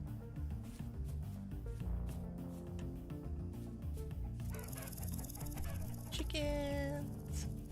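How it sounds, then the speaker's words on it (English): Chickens clucking in the video game Vintage Story, brief clucks and calls near the end over steady game ambience and music, with a voice talking at times. "Chickens."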